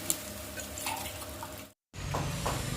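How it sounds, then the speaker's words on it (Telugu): Water is poured into a pot for cooking semolina, heard as a close, steady splashing trickle that cuts out briefly and then runs on again. "రెండు గ్లాసుల రవ్వకి నాలుగు గ్లాసుల నీళ్ళు పోసుకోవాలి"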